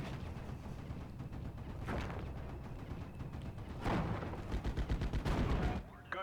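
Distant booming tank gunfire in the Steel Division: Normandy 44 war game, with a few muffled shots spread over several seconds and a closer cluster of rapid reports near the end.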